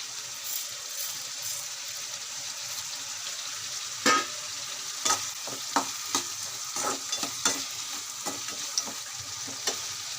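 Fried ingredients for dry poha (avalakki) with sugar are stirred in a pan, a soft steady sizzle broken by repeated sharp spoon scrapes and clicks, close and without talk.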